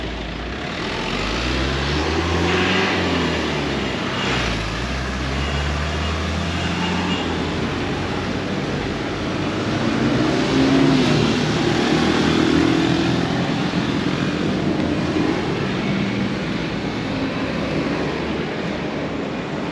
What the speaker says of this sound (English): Too much traffic out on the road there.